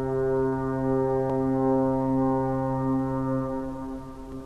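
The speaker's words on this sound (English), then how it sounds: "the loud bellow of the ship's horn" Deep ship's horn bellowing on arrival, one long, loud, sustained blast with strong steady harmonics that tails off slightly at the end, with no voices over it.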